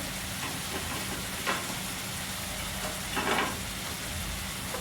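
Green chili is dropped into a pan with onion for matar paneer and fries with a faint, steady sizzle. Two brief stirring scrapes stand out, with no talk.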